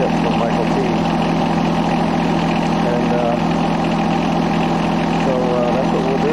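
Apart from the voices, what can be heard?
three-cylinder diesel tractor engine idling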